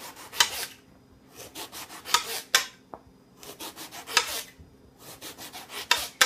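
A knife slices through eggplant being cut about half an inch thick for pizza, giving repeated rasping, scraping cuts in short bursts, fairly close and moderate in loudness, with no talking.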